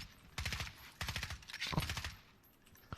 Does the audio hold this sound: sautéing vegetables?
no